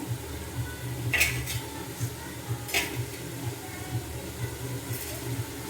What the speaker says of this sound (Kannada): ಇದು ಬ್ರೈನ್ ಏನಿದೆ, ನಾನು ಅದು ಸಣ್ಣ ಪ್ಯಾನ್ಗೆ ಹಾಕ್ಕೊಂಡು ಸ್ಟವ್ನ ಆನ್ ಮಾಡ್ಕೊತೀನಿ